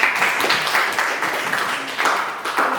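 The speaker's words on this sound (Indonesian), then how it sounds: "Oke, tepuk tangan buat." Classroom applause for a student discussion group in a guidance and counseling lesson, a steady stretch of fairly close clapping from a class with a few swells in intensity.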